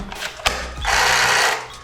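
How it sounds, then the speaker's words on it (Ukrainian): An electric reciprocating saber saw revs up briefly in a house under renovation, a harsh, buzzing whine rising to a steady roar for about a second after a sharp click, close by with no talk. "Ось така в мене є, друзі, шабельна пила."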